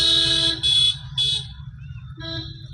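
A car horn honks three times in quick succession, loud and close, followed by a softer, longer honk.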